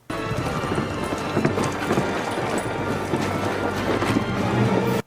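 Hooves of a horse pulling a carriage clop steadily and close over a continuous rumbling bed, filling the whole stretch with no talk.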